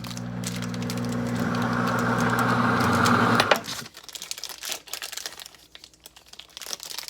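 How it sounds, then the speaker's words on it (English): A block of cheddar cheese cut while still inside a plastic bag, loud steady crinkling of the plastic for a few seconds, then quieter scattered rustles. "I probably should have taken it out of the bag to cut it"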